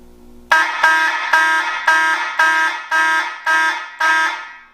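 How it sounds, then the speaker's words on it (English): Older Kidde vibratone fire alarms sound a loud, buzzy, repeating tone in eight evenly spaced pulses of about half a second each, beginning abruptly after a brief quiet start. "these alarms are a little bit older and they are vibratones"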